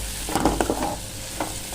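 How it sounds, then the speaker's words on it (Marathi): A spoon stirs coconut, coriander, ginger, garlic and cumin masala paste into tomato chutney in a pan, giving a few soft scraping strokes over a faint low sizzle, close up with no voices. "मिक्स करून घेऊया."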